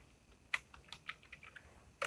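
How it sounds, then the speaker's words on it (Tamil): Typing a print command on a computer keyboard produces a quick, irregular run of light key clicks, close and fairly quiet, with a sharper pair of taps at the start and end. "ஃப்ரெண்ட்ஸ்னு சொல்லிட்டு டைப் பண்ணுறேன்."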